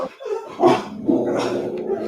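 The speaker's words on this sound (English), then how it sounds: "sorry for the dogs, everyone who's watching" Rambunctious dogs bark and yip close by during a live cooking show with chefs preparing pork and potatoes, the barking a tangle of overlapping short yaps and whines.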